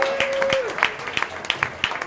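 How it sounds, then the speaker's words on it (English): Scattered claps from a small comedy club crowd cheering the organizers and comedians, a handful of distinct hand claps spread across a couple of seconds, with a brief tone and murmur in the room. "Hand of applause."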